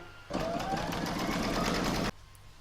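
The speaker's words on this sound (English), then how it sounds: "I'm now going to pop that into my machine and stitch round number 4" An embroidery machine stitches fabrics together in the hoop, a loud, fast, even mechanical chatter that starts abruptly, runs for nearly two seconds and stops sharply, heard close with no talking.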